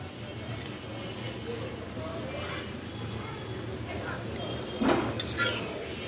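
Fried potato chops being lifted out of a frying pan with a utensil, giving a few soft clinks and scrapes of metal over steady frying sizzle, with a sharper clink near the end.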